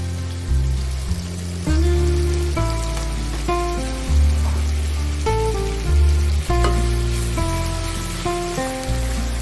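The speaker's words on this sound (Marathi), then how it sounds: "कांदा फोडणी घालून आपण चांगला परतून घेऊया" Finely chopped onion frying in hot oil tempered with cumin and whole garam masala for dhaba-style palak chicken, a continuous close sizzle with light stirring, under steady background music.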